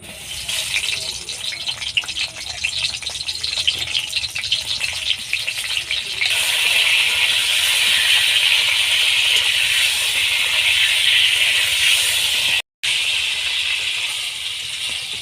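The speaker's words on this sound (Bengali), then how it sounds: "তেলটা গরম হয়ে গেছে। এবার আমি পটলগুলো ভেজে নেব।" Pointed gourd frying in hot mustard oil in a wok, a steady broadband sizzle that swells and grows louder about halfway through, with a brief dropout near the end and no voices.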